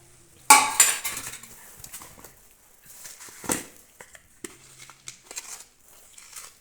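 Fennel, carom seeds, cumin, dried pomegranate seeds and asafoetida go into a mixer grinder jar, with a burst of rattling and spoon clinks, then scattered taps and clatters against the jar.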